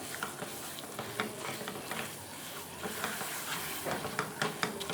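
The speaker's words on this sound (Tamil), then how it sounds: "சேர்த்து நல்லா மிக்ஸ் பண்ணி விட்டுக்கிறேன்." Cooked moong dal being stirred into ghee-roasted wheat flour for Ashoka halwa, giving a steady soft scraping and faint sizzle with occasional spoon clicks, fairly quiet and without speech.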